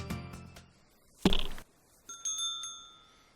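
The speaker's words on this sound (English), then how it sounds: "I wake up to the sound of the doorbell" A bright electronic doorbell-like chime rings out in a couple of clear, ringing tones near the end, following a sharp knock-like thump, with no talking.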